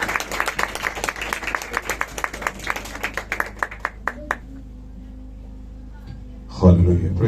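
An audience at a church gathering claps in brisk, loud, uneven applause that fades out midway, leaving near silence before a short burst of sound at the end.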